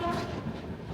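Inside a non-AC coach on a train from Chennai to Srikakulam, the running train gives a dense, steady rumble and rattle close by, with no talk.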